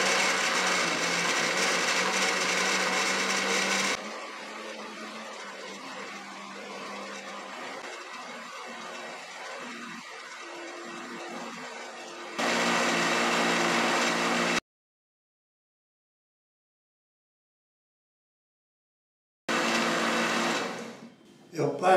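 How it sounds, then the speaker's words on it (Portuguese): A blender blending cooked cabbage whirs loudly in bursts, stopping while someone talks, then running again; a short silence and a final burst close it out. "Senão pode ser que o liquidificador não consiga bater."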